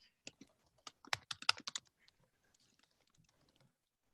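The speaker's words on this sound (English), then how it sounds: "just literally typing here in the browser" Someone types on a computer keyboard in a quick burst of soft, close key clicks, which then thin out into a few scattered taps, faint overall.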